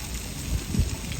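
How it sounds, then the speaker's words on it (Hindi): Heavy rain falls with strong, cool wind, making a continuous broadband hiss with gusty low rumbling that swells briefly near the end. "कल भी बहुत तेज़ बरसात थी और आज भी बहुत तेज़ है"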